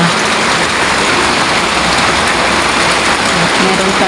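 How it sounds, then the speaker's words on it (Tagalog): Heavy rain pours steadily as Typhoon Verbena moves in, a loud, unbroken hiss of drops striking surfaces close by, with no pauses or changes in intensity. "umuulan na."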